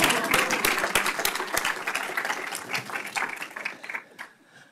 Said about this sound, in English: Right, we can clap.